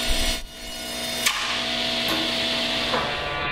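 A table saw whines steadily as a wood panel kicks back off the blade, with a sharp crack partway through and a fainter knock after, loud and close.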